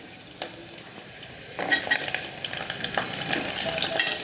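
Garlic and grated coconut sauté in a pan with a light sizzle that grows louder partway through, with spatula stirring and a few metallic utensil clinks.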